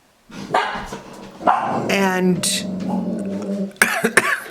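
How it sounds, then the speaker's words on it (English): Dogs bark loudly and repeatedly at close range, several sharp barks overlapping with a person talking. "there goes the dogs again"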